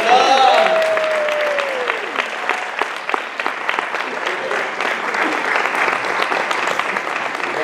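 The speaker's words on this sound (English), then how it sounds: "Big round of applause." Audience applause rings out for a mock Mr. Pioneer pageant, a dense patter of clapping that stays steady from start to finish.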